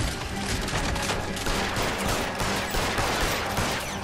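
Rapid gunfire rattles through a shootout in the video game L.A. Noire, a loud, dense fusillade of overlapping shots that keeps going without a break.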